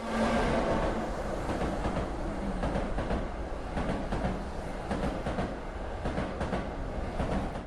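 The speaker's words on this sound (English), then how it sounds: "At the shrine, a train packed with skeletons rushes by." In the horror video game Tsugunohi, a train crammed with skeletons rushes past a shrine, a loud continuous rumble with clattering wheel noise that persists throughout.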